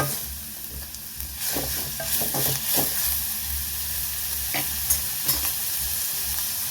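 Medium-size onions fry in a pan for Mangaluru-style chicken, a steady sizzle broken by clinks and scrapes of a spoon stirring them.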